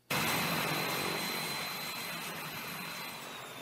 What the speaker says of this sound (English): exclusive footage caught by Channel 5's new unmanned drone.